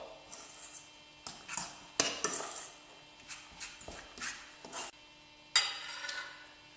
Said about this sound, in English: So I'm going to mix this all up really well.